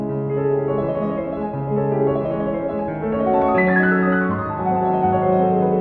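Chopin's Fantaisie-Impromptu played on piano: rapid, flowing runs of notes over sustained lower tones, moderately loud and steady, with no talking.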